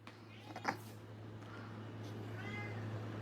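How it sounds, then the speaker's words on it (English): A domestic cat meows once or twice, close and fairly soft, over a steady low electrical hum, with faint rustling afterwards. "He's a great cat."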